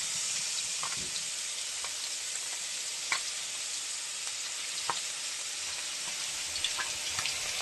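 Khoira fish frying in a pan of oil, a steady even sizzle with occasional small pops and light ticks, moderately close and uninterrupted, with no voices.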